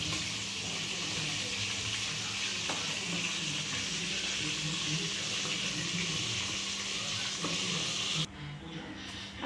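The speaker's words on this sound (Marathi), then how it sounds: "आता पाहू शकता वांगी छान असे एकदम परतून झालेले" Brinjal (eggplant) fries in oil in a pan, giving a steady, moderately loud sizzle with occasional stirring scrapes, before the hiss drops sharply near the end.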